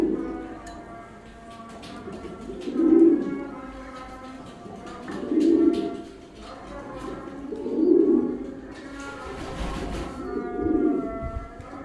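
Pigeons coo in deep, rolling calls from a loft, repeating about every two and a half seconds, near and fairly loud, with faint chatter and other bird sounds underneath.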